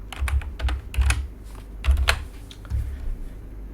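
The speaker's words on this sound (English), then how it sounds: "Just type some message" Computer keyboard keys tapped in quick irregular bursts while a message is typed into an Android virtual device, close and crisp with short pauses between clusters of keystrokes.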